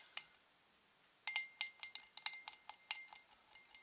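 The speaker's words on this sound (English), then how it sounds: "Get the gas out, just give it a good stir." A stirrer clinks against a small glass candle holder while aerosol paint is stirred to degas it: one tap, a pause, then a quick run of about a dozen bright, ringing clinks, close and clear.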